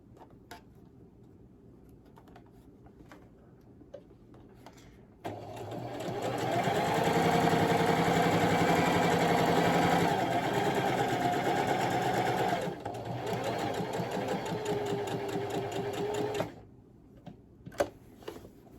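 A sewing machine stitches a 3D octagon fabric mask near an aluminum strip, whirring steadily for about eleven seconds after a quiet start, then stopping, leaving a few faint clicks.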